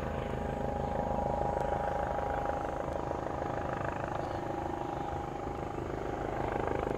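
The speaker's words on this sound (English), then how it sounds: "Helicopter going to landing here." A landing helicopter's rotor thrums steadily at a distance, a low continuous chopping drone filling the whole stretch without pause.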